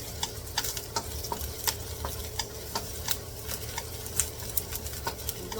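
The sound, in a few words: sauteing garlic for chicken adobo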